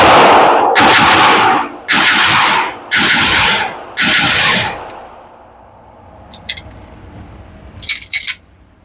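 Romulus, Synergy, Match X and Mac9 blasters fire in turn on a range, four loud sharp bursts of rapid shots in quick succession, then a quieter stretch with a few faint clicks and a final short burst.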